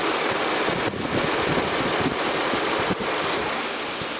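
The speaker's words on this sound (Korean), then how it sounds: "이제 V6의 엔진 소리 한번 들어봐야겠죠." A steady V6 car engine idle, smooth and constant with broad noisy rumble, heard close with the engine bay open, no voices.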